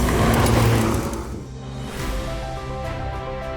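A Ferrari F8 Tributo supercar drives on the road, its engine a steady moderate drone that eases off after a louder opening second, with no talk.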